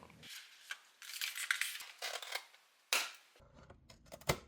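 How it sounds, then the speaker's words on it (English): Scissors snip through a Dollar Tree paper gift bag, cutting out a design in a run of crisp, close cuts and rustling paper, with a few sharp clips standing out. "Next, I'm cutting out the part of the design that I want from the gift bag"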